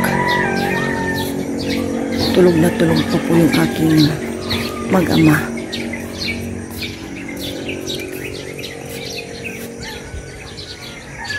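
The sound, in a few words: birds and chickens calling at dawn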